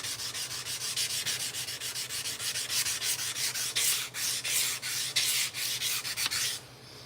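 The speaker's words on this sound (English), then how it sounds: "I keep using that same stupid piece of sandpaper when I should just switch sandpaper and keep going" Sandpaper rubs by hand in quick, even back-and-forth strokes, a close rhythmic rasp that keeps a steady pace over a low hum and stops near the end.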